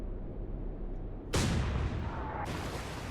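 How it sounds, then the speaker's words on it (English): A U-boat deck gun fires in the naval video game Atlantic Fleet, a single loud, sharp blast at about 1.3 seconds that rolls into a sustained roar, with a steady low rumble of sea and engine before it. "now we can just use a bit of the deck gun"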